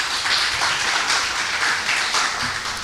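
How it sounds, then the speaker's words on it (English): A women's day awards audience in Mayaro gives a sustained, dense round of applause, steady and fairly loud throughout with no talk over it. "give yourselves a round of applause"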